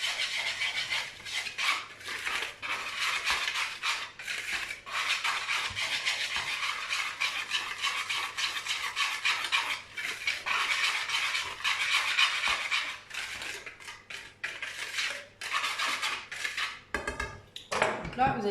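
Sugar, vanilla sugar and dry powders are stirred together in a mixing bowl for a raspberry mousse and quick brioche, giving a steady close scraping and rubbing of utensil against bowl with small clinks throughout.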